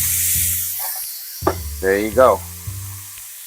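Water hitting a hot pan bursts into loud sizzling hiss while frozen broccoli is being cooked, rising and settling in a few strong bursts, with someone talking briefly over it.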